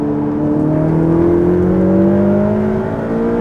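A Ferrari sports car worth around 400,000 euros accelerating hard, its engine note climbing steadily in a smooth rising whine that stays loud and close, heard from inside the car.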